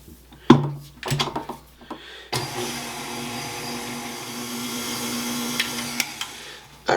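An electric mixer whirs steadily through biscotti dough with vanilla being added, a continuous motor drone running for several seconds after a few clattering knocks and bumps, with a brief louder clunk near the end.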